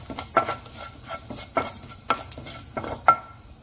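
Fennel, cumin and mustard seeds sizzle in hot oil in a pan for a prawn curry. A spoon stirs them in repeated scraping strokes about every half second over a low, steady sizzle, with no voices.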